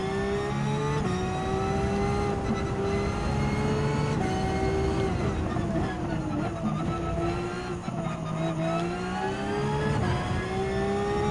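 Porsche Type 991 (2016) racing car engine in Gran Turismo 7, a loud continuous drone with shifting pitch as revs rise and fall, sustained through the whole stretch without talk.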